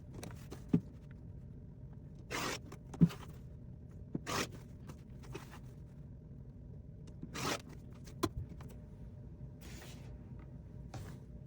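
A rotary cutter slices along a ruler, trimming the backing fabric on all four sides of a quilted placemat, giving a few separate sharp swishes spread between quiet pauses.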